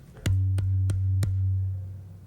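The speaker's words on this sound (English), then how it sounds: "here's a 6 ply shell like yours, okay? This is a 12 by 14 inch tom." A 6-ply 12 by 14 inch tom drum is struck four times at an even pace, each hit ringing with a deep, sustained resonant tone that slowly fades.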